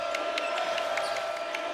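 Home basketball crowd cheering for the Tulane Green Wave in their arena, a steady wash of massed voices and whistles sustained across the whole moment without a break.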